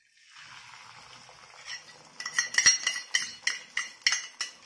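Beaten egg for kalakki goes into a hot oiled pan with a soft steady sizzle, followed by a run of rhythmic metallic scrapes and clinks from a spatula in the pan, close and fairly loud, with no talking.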